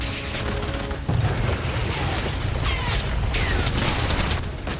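Tank and artillery fire rumbles through a British Army exercise in sub-zero Finland, with a steady dense roar of booms and mechanical clatter and no clear speech.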